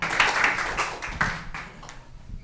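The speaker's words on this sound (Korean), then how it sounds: "여러분 큰 박수로 맞이해 주시기 바랍니다" Audience applause fills a hall at Kyung Hee University's 2025 education innovation vision ceremony as a speaker is welcomed to the stage: a burst of many hands clapping close and loud, then thinning out toward the end.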